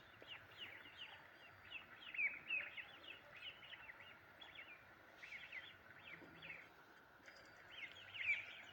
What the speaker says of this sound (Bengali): এখানে 50 পিস হাঁসের বাচ্চা রাখা আছে,